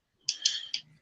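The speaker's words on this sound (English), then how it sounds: "Enrique, you got some clicking noise coming from the background" Sharp mouse or keyboard clicks from someone gaming in the background, four short bursts in about a second, fairly faint and heard alone.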